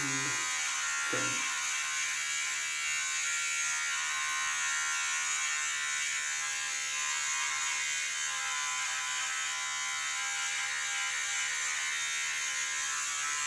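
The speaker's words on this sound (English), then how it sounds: "now with the trimmer" An electric hair trimmer buzzes steadily and close during a home haircut, a constant bright whirring hum with a couple of brief knocks at the start.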